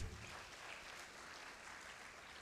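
Audience applause, a faint, even wash of many hands clapping that holds steady for a couple of seconds, with no talk over it.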